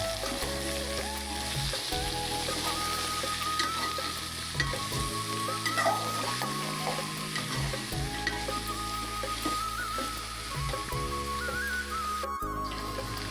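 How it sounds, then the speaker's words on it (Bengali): Mixed vegetables stir-fried in a pan for a Chittagong-style ghonto curry, with a steady loud sizzle, scraping stirs and clattering throughout, and a brief pause near the end. "একটু নাড়াচাড়া করে নিলাম সবগুলো সবজি এভাবে একটু নাড়াচাড়া করে নিলাম"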